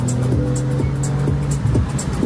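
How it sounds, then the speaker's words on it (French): Porsche 911 GTS engine taking a bend on a country road, a steady loud engine drone with rising and falling pitch sweeps as the car revs through the corner, with no talking. "Là il va aller nous prendre le virage les gars, vous entendez le bruit de la Porsche."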